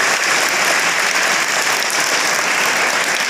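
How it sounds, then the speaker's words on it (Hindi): An audience at a school career-guidance event welcomes a guest speaker, an assistant professor, with loud, sustained applause, a dense and even roar of many hands clapping at once with no pauses. "चाहूँगा जोरदार तालियों से स्वागत हो"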